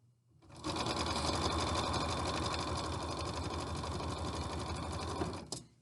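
A sewing machine runs a zigzag stitch across isolation-gown fabric, a steady, close mechanical whir holding for about five seconds before stopping.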